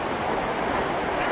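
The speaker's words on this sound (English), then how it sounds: "As I'm sitting here looking out over this stream" A woodland stream near Horseshoe Falls rushes in a dense, steady wash of flowing water, close and constant with no talk.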